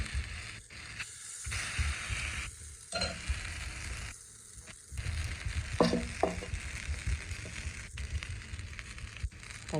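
Small rounds of vegetable oats uttapam batter sizzle and hiss on an oil-brushed griddle pan, a soft steady frying crackle with occasional scraping and clinks of a utensil, fairly quiet and close.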